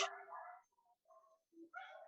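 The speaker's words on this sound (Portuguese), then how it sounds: "justo na hora da gravação, os cachorros ficam essa loucura" Several dogs bark and yip in short, excited bursts with brief gaps between them, heard at a modest distance in a quiet setting.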